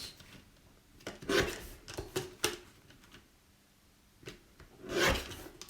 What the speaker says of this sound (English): Going to take my little guillotine and just trim this down